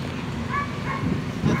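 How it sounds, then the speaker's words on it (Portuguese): A dog yips and barks a few times in short bursts at a rural armadillo-hunting scene, moderately close over steady background noise. "É cachorro aqui."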